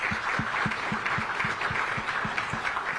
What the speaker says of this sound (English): Yeah, I think we can clap for that.